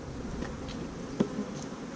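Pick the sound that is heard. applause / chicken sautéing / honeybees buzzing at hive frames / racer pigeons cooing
honeybees buzzing at hive frames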